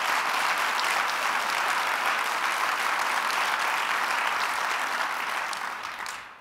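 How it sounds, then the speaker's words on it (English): A conference audience gives a sustained round of applause, dense and steady throughout before tapering off at the very end. "Can we give them a round of applause, please?"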